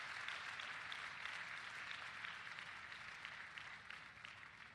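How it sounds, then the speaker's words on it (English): Distant, faint applause from an audience at a student summit in Kochi, a dense steady patter of clapping that slowly thins over about five seconds. "Give me an applause."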